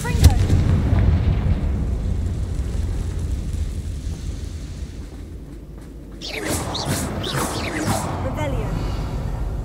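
Blasting spell explosions from Hogwarts Legacy: a loud opening boom, then a stretch of rumbling low blast noise, and a fresh burst of crackling, booming impacts near the end, with the game's spoken dialogue.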